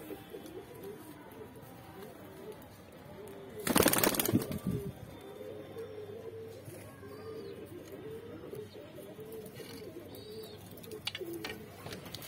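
A flock of Saharanpuri pigeons, mixed with kasni and Moradabadi birds kept for sale, coos in low repeated rolling calls throughout, with a brief loud burst of flapping or rustling near the start.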